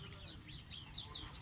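Wild birds chirp in a few quick, faint high calls near the water, four short bursts over a low, soft background.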